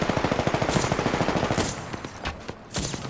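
Rapid automatic gunfire from the Apex Legends video game, a fast steady burst of close, loud shots for about a second and a half, then scattered single shots and impacts with no talking.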